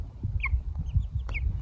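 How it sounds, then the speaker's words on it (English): A large backyard hen clucks softly nearby in a few short, scattered calls over low ambient rumble, with no talking. "Is it Rocky the Big Chicken?"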